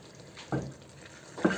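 Cumin seeds hit hot oil for a tempering in a Bengali beef tripe bhuna, giving two brief, soft sizzling bursts close by in a quiet kitchen.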